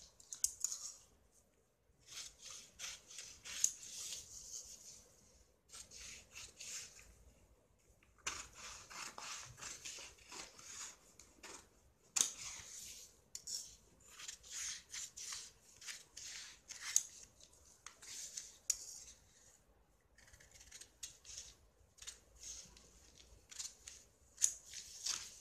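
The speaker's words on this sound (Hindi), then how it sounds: "अब यहाँ पे हम बाहर के साइड से इसकी कटिंग करेंगे" Scissors snip through blouse fabric on a cutting surface, close and quiet, in irregular bursts of crisp shearing cuts separated by brief pauses, with no talking.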